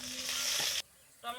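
Chopped onions, a bay leaf, a dry red chilli and whole garam masala sizzle loudly in hot oil for a snakehead fish curry, hissing close up, then abruptly dropping quiet before a brief renewed sizzle.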